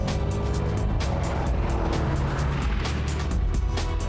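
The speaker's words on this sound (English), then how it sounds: "Listen to the roar of that engine." A Lamborghini engine roars as the car is driven hard on a Swiss rally stage, a dense, sustained mechanical roar with rhythmic bursts, loud and continuous from start to finish.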